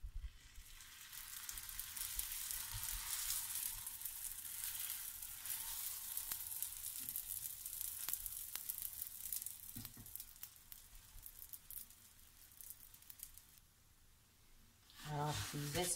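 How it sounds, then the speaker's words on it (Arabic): Moroccan mlawi flatbread frying in a pan of oil, a steady loud sizzle running throughout with brief clatters, easing off near the end before a short burst of noise. "انا كندير زويته باش غادي نطيب دوك المليويات"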